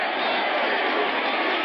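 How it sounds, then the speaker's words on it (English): At a 1985 Dallas Cowboys vs New York Giants football game, a dense, steady stadium crowd roar fills the air, muffled and continuous, with no single voice standing out. "Crowd getting into it."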